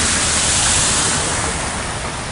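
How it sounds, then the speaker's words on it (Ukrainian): Water runs down a city street in a steady, full rush that holds at an even, loud level throughout, with no voices. "Ось струмочок собі течі."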